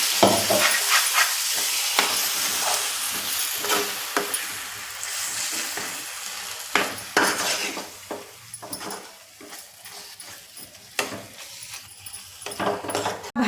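Water goes into sizzling masala in a pan for a methi matar malai curry, a loud hiss and crackle with clinks of utensils that gradually calms to a softer bubbling fry.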